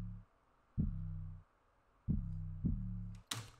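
An 808 kick drum in FL Studio, with its high frequencies cut by EQ, lands as a few dull, booming low thuds that ring out and decay, soft and muffled, with no talking.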